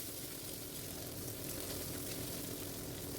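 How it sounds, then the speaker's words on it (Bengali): Ginger-cumin paste and turmeric frying in a pan, a steady, even sizzle that fills the whole stretch without pause, close and moderately loud, with no voices. "আদাটা একটু ভাজা হয়ে এলে তারপর দিয়ে দিলাম পরিমাণ মতো হলুদ।"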